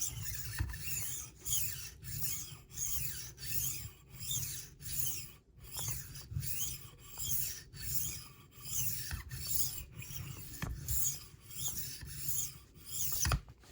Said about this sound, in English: now we're going to hone this